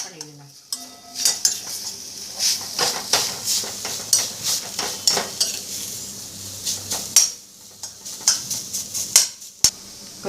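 A spoon scrapes and clatters against a pan while stirring a radish paratha filling with garam masala, salt and coriander powder, irregular metallic knocks and scrapes over a faint steady sizzle.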